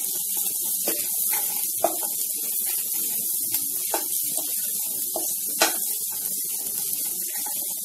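Onions with cinnamon, black cardamom, green cardamom and cloves sizzling in melted butter for shahi paneer, a steady soft hiss with occasional small pops and crackles.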